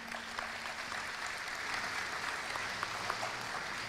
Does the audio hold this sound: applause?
yes